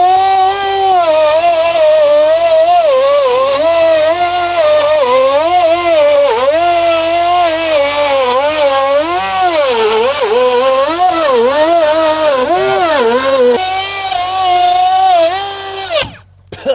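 A router cuts wood during a house build. Its loud, continuous motor whine swoops up and down in pitch as the bit bites and eases, then cuts off sharply at the end.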